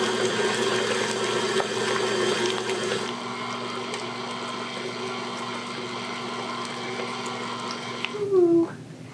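A kitchen mixer whirring steadily as it blends ingredients for a salmon mixture, a constant humming drone that eases partway through, with a short voice near the end.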